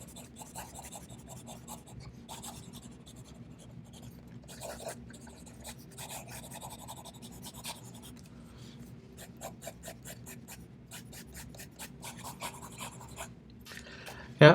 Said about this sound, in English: try fast writing.